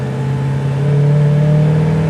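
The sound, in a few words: 1962 Chevy Impala SS 327 engine revving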